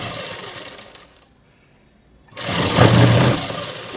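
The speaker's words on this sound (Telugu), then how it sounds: "అలాగే రౌండ్గా కుట్టుకుంటూ వచ్చేసేయాలి" An electric sewing machine stitches around a cut trouser pocket, whirring steadily at first, stopping for about a second of near silence, then starting up again louder and running on.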